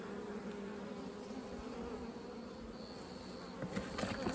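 Honey bees buzzing over a brood frame full of nectar, pollen and young bees, a soft continuous droning hum close to the microphone with a few individual bees whining louder near the end.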